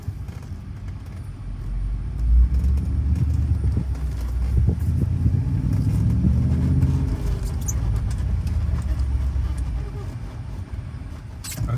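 A Mercedes-AMG G55 SUV, which needs its wheel hubs rebuilt, pulls off and drives, giving a steady low engine rumble with crunching and rattling on rough ground for about twelve seconds and no talk.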